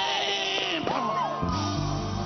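A youth conference crowd screams and whoops together in a large hall, a loud, sustained mass of raised voices with a shouted cue near the start and music underneath.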